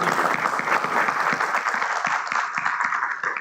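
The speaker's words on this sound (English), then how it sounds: "So big round of applause for all of these students, please." An audience at a school district board of education meeting applauds students, with dense, steady clapping from many hands that holds evenly and stays fairly loud throughout.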